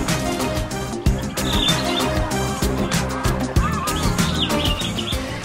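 Many birds of numerous species call across a large bird park with walk-through aviaries, a dense continuous chorus of chirps, squawks and fowl-like calls close by and fairly loud.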